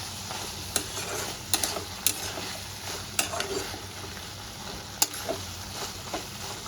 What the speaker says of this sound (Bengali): সর্ষে বাটাটা দিয়ে একটু কষিয়ে নেব।